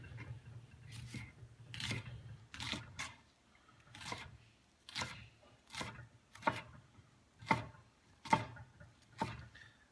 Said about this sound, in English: That was half an onion cut in half and peeled